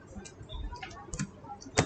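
PHP code is typed on a computer keyboard in a brief run of soft, close key clicks at an uneven pace, ending with a sharper tap.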